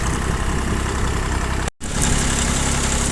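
A small tractor engine chugs steadily nearby while digging potatoes, broken by a brief dropout, then keeps running with a rough, vibrating drone.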